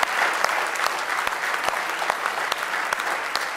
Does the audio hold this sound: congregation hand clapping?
yes